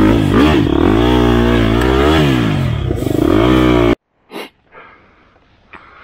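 A motorcycle engine on an enduro trail bike revs loudly and close by for about four seconds, pitch climbing and falling with the throttle, then cuts off abruptly into near silence with a couple of faint knocks.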